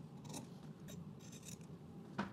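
Quiet scissor snips trimming jeans fabric at the center front, several soft scattered cuts close by with a sharper final snip, no talking.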